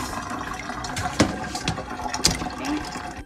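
Dirty soaking water drains from a bowl of freshly washed fruit, a close splashing gush with a couple of sharper sloshes and a steady running trickle.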